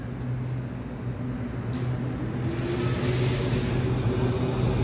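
An LRT 1 light rail train on the Cavite extension rumbles past, a steady, loud low roar and rail hiss that builds slightly over the seconds, with no talk.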